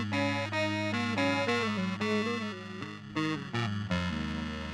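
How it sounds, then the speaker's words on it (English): A sustained, heavily distorted guitar tone with a shimmering chorus wash from a Poison Noises The Spill effects pedal, chords shifting every half second or so, loud and continuous with no voices. "It's like a distortion"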